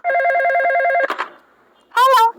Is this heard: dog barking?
no